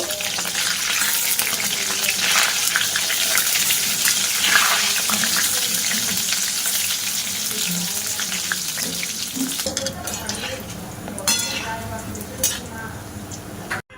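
Sweet flour dough balls for pal cake fry in hot oil with a constant close crackling sizzle, then the sound thins and turns to scattered clinks and handling noises near the end.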